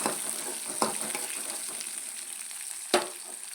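Chopped shallots and onion sauté in a pan for tomato chutney, giving a close, continuous sizzle with a couple of sharper stirring knocks and no talking.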